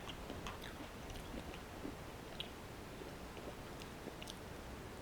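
Crunchy kernels in a Peruvian dish are chewed close up, giving soft, irregular crunches and mouth noises at a faint level with no talking.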